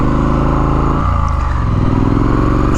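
Triumph Street Scrambler motorcycle engine running close and loud, a steady throbbing twin rumble that dips briefly as the gear changes, then pulls again on the next gear.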